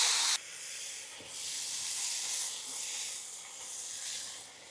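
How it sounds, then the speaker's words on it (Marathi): Chopped fenugreek leaves frying with garlic in a pan, giving a steady close hiss and sizzle that follows a brief louder burst at the start. "त्याच्यामध्ये आपण चांगल्या प्रकारे तिला फ्राय करून घेणार आहे।"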